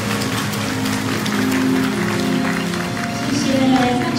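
A seated audience at a sharing gathering in Tainan applauds continuously, a dense, even patter of many hands that holds steady and swells slightly near the end.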